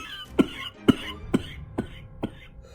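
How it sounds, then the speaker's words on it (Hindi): An old man coughs five times in a steady series, each a sharp, close burst with short breathy pauses between, alone without talk. "तभी एक बूढ़ा आदमी खांसते हुए मुखिया के पास आता है"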